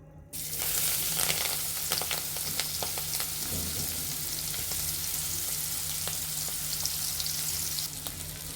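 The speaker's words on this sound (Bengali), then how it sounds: "এখন আমরা চিংড়ি মাছগুলো ভেজে নেব" Continuous hot-oil sizzle with crackling pops as prawns fry in white oil in a wok, close up and steady throughout.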